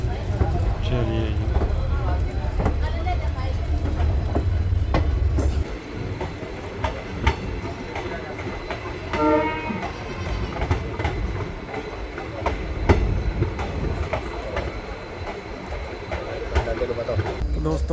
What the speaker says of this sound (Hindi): तो दोस्तों अपनी ट्रेन पहुंच चुकी है नाभा रेलवे स्टेशन।